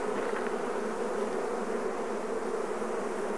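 Honey bees swarm around an open Langstroth hive during an inspection in Africa, their dense, even buzz holding close and constant throughout with no voices.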